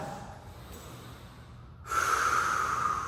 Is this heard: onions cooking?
no